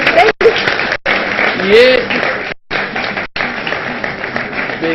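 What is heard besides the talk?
studio audience applause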